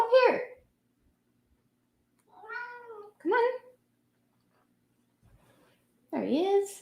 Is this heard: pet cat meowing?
yes